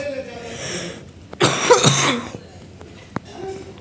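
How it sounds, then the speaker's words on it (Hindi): A person coughs in a short burst of two or three harsh coughs, loud and close, with quieter talk-like sounds before and after during play of the game The Walking Zombie 2. "खांसी है गाइस, अवॉइड करना।"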